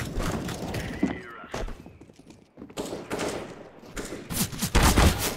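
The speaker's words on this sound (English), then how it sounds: "Stop shooting me!" Gunfire in the game CS:GO, fairly loud bursts of rapid shots and thuds scattered across the moment, heaviest near the end, mixed with game noise and a faint voice.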